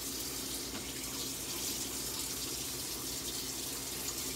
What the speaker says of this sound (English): I'm washing it with soap because it was pretty nasty.